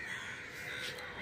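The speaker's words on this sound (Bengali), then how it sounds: "আর এদিকে চারিদিকে পাখিদের কিচিরমিচির ডাক শুনছি।" Crows caw from around a rooftop, a steady close calling that fills the whole moment with no speech over it.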